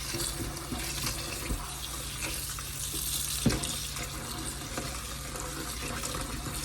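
Cold water runs steadily from a tap into a bowl while butter is rinsed, a close, constant splashing hiss with a brief clink partway through and no talking.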